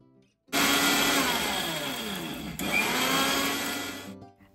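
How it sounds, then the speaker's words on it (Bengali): A kitchen blender whirs through five-spice, ginger, garlic, vinegar and whole mustard seeds for a pickle, starting abruptly, roaring loud and close for about four seconds with a brief dip midway, then cutting off. "এবার সব কিছুকে ব্লেন্ড করে নিব।"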